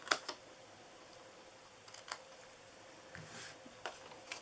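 Scissors cut the tops of a paper treat box, a few sharp, quiet snips spaced apart over a faint background hush.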